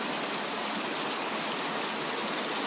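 Heavy rain from a thunderstorm pours down in the countryside, a dense, steady hiss of drops with no breaks and no other sounds.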